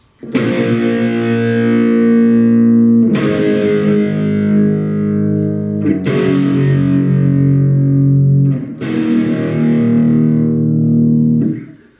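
Distorted electric guitar playing a section of a song, four loud strummed chords ringing out and decaying at a slow even pace, alone without talk.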